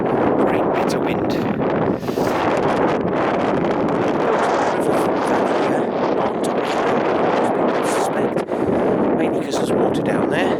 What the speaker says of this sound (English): Great bit of wind.